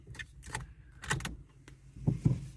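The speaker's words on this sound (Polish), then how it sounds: "Zgaszę w takim razie samochód, wyjmę kluczyk" A Dacia with start-stop is switched off and its key pulled out: a few close clicks and knocks from the ignition and cabin, sparse and irregular, ending in two heavier thumps.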